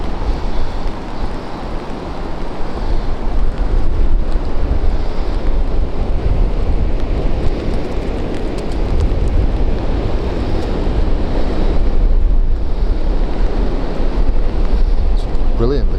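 Strong wind on a beach roars and buffets the microphone continuously, with a broad surf-like rush underneath and no talking.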